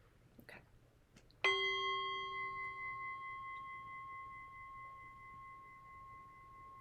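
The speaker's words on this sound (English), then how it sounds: "Allow the sound of the bell to beckon you inward." A meditation bell is struck once after a few faint small knocks, ringing out with a clear, pure tone that sustains and slowly fades over several seconds in a quiet space.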